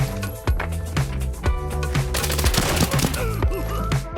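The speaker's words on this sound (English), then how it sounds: "Who the heck's shooting at me?" Gunfire in the video game Arena Breakout, a run of distinct rhythmic shots about every half second, with a denser crackling burst in the middle, heard alone without talk.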